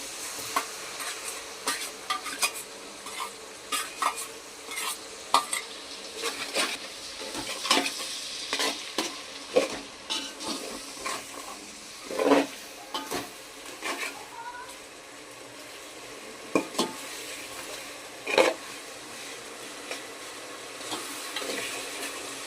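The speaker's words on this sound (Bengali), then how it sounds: "মাটন কষানোর মশলাটাকে দিয়ে দিলাম" Masala for kosha mutton fries and is stirred in a pan, giving soft continuous sizzling broken by repeated sharp scrapes and clinks of a spoon against the pan, with a voice talking over it.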